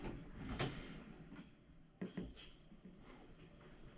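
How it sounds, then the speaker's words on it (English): A door is pushed shut indoors, giving a sharp knock and a second thud a moment later over a quiet room background with faint handling noise. "Why are you closing my door?"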